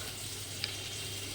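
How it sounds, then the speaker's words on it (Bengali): Eggplant slices fry in a pan, giving a soft, steady sizzling hiss with a tiny crackle partway through, faint and unbroken. "বেগুনটা বেগুনের মতো ভাজা হোক"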